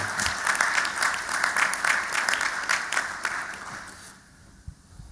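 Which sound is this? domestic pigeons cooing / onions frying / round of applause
round of applause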